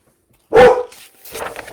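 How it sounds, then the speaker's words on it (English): A dog gives one loud, sharp bark, then a few softer rough yips and vocal noises trail off behind it, close by and otherwise quiet. "The one that's barking is probably the bad seed."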